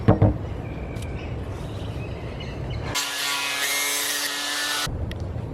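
A power sander runs steadily on a board fitted with 88 grit sandpaper, a loud dense whir lasting about two seconds mid-clip, with quieter rubbing and handling noise before and after.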